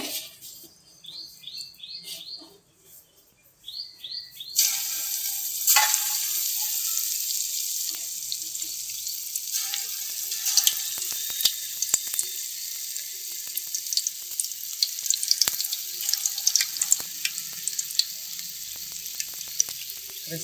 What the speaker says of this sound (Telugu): ఇప్పుడు పునుకులు వేసుకున్నామండి.